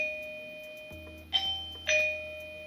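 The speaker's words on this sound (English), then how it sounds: "So the first one is just a normal ding dong." A Lindo 2K dual camera video doorbell indoor chime plays its standard ding-dong as two clear, bright tones, the second a moment after the first, at moderate volume over a faint background hum.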